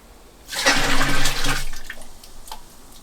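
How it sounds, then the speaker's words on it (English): Hot water and malt sloshing in a container being shaken hard during a pilsner brew day, a loud liquid swish of about a second that tapers into fainter gurgles, alone without talk. "I've now put hot water into here, and I'm just going to give it a good shake"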